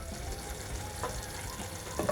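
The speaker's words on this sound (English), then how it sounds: "So we're gonna start slightly frying the artichokes" Floured artichokes frying in a shallow layer of oil, a steady soft sizzle and crackle close by with a few louder pops near the end, no talking.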